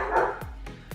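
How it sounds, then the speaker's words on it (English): A pet dog barking indoors, several short sharp barks in quick succession close by, loud over a steady background hum. "Sorry, my dog is flipping out."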